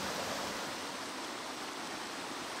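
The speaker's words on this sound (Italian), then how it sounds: "La cascata di Fuas è formata dal torrente Possal, che nasce a quota 1572 metri." The Fuas waterfall on the Possal stream in Friuli pours in a steady, even broadband rush of falling water, continuous and moderately loud with no voices.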